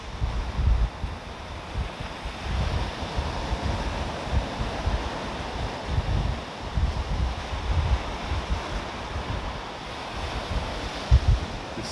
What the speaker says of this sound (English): Waves coming in over there.